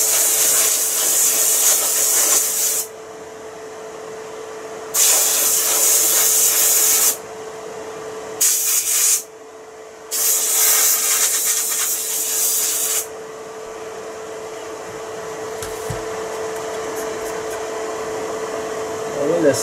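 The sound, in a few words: compressed air blowing dust out of a TV terminal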